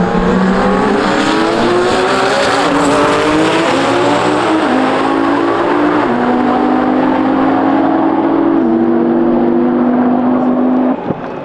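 Drag racing cars launching, including a Nissan GT-R, on a strip: loud engines rev and climb through rising gear steps, close and dominant, ending abruptly.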